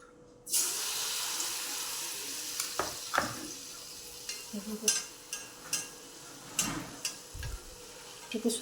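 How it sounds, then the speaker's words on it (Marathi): Sweet puris deep-frying in hot oil in a kadai on a gas stove, a steady loud sizzle starting after a brief quiet moment, broken by scattered clinks and splashy bursts as the puris are turned. "तर चला मग आता आपण आपल्या गोड पुऱ्या तळून घेऊया थोड्या वेगळ्या पद्धतीने"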